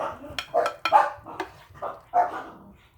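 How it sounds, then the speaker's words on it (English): Dogs romp and bark in a kitchen where egg roll in a bowl is being served, giving several muffled barks at uneven intervals along with light clatter of dishes and utensils. "those dogs are quiet when you're not doing anything"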